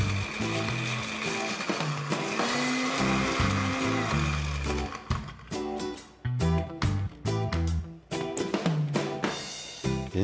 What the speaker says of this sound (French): On met tout dans le mixeur.